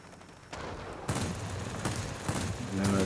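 Aircraft gunfire in World of Warplanes as the XFL-1 flies, several sharp bursts of shooting over a steady engine drone, growing louder toward the end.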